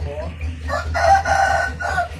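A rooster crows loudly and close by on a small cattle and chicken farm in rural northeastern Thailand: one drawn-out, rising and falling call over a low background hum.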